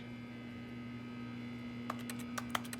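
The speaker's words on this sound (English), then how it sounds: "Everything I touch sounds like a keyboard." Objects are touched in The Stanley Parable video game, giving a handful of quick, keyboard-like clicks near the end over a steady electrical hum.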